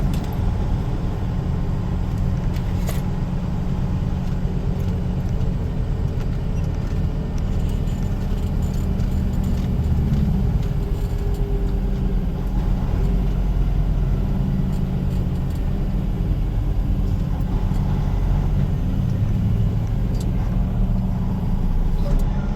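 Trucks and cars moving along a road beside King's Hot Dogs, a continuous low engine rumble and tire hum from nearby passing vehicles, steady throughout with a few louder swells and no talk.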